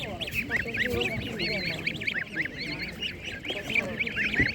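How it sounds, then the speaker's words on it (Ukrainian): Goslings and geese cheep and honk in a dense, continuous chorus at a rural animal market, with faint background voices and market noise underneath. "Гусенята, дивіться. Це гусенята по 120 гривень."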